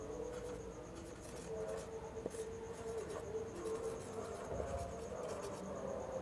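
Chalk or marker strokes on a board during a physics lesson on electricity, a steady scratchy scraping that runs continuously and fairly close, with no voice over it.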